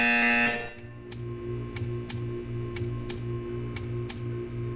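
Buzzer in the Portal 2 video game, a loud harsh electronic buzz that cuts off, followed by a regular series of mechanical ticking clicks at about one per second.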